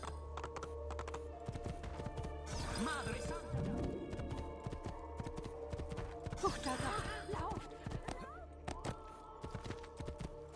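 Horse galloping in the video game Assassin's Creed 2 during a horse race, with rapid rhythmic hoofbeats throughout, faint and steady alongside game ambience and occasional crashes.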